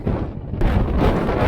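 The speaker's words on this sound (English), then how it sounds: "Wind gust right into the van." Wind gust blasting into a camper van on a mountain road: a loud, close, rumbling buffeting of rushing air against the microphone that surges stronger partway through, with no talk.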